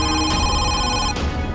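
In the horror game Home Sweet Home, a telephone rings loudly and close by, an electronic bell tone that repeats in short bursts without pause.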